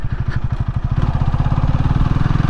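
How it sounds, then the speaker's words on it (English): A Honda Rebel 300 motorcycle engine braking on a ride, a close, loud, rapid low chugging pulse from the engine as it slows, steady and throbbing with no talk over it. "Engine brake."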